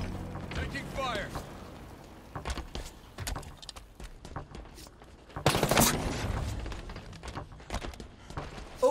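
Gunfire in the Halo video game, likely Halo Fracture: scattered sharp shots and bursts, with one loud barrage midway amid intermittent in-game voice chatter.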